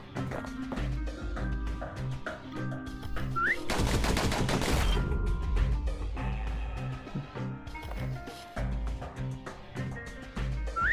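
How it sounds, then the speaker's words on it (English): Pistols firing rapidly in the Bastion video game, heard as dense bursts of gunfire over the game's loud, continuous musical soundtrack, with a heavy barrage near the middle. "Those pistols could spit out rounds just as quick as you could pull the trigger."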